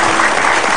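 Brief burst of dense, loud studio audience applause on an Indonesian television talk show, an even wash of clapping with no pauses.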